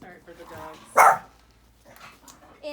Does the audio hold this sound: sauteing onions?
no